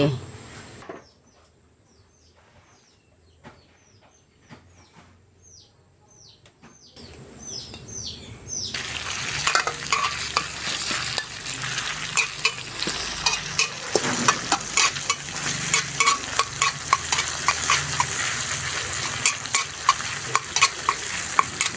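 Birds chirp faintly in a quiet kitchen for several seconds, then oil in a wok bursts into a loud, continuous sizzle for a spicy apple-snail stir-fry, with sharp, repeated clacks of a spatula stirring close by.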